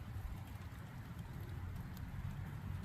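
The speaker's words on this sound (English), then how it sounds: "the rain is starting to come back down" Steady rain falls outdoors around a parked 2025 vehicle, a continuous soft hiss with low rumble and no voices.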